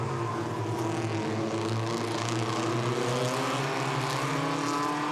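Race cars in the SsangYong Actyon Racing Series at Pukekohe Park Raceway roar past in a continuous loud wash of engine noise, with layered revving tones rising and falling as several cars race close together.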